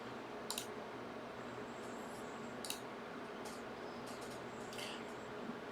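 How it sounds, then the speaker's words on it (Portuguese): Sharp, quiet mouse clicks at a computer while saving a file, several single clicks spread unevenly over a few seconds against a low, steady room hum. "Vou clicar aqui em salvar"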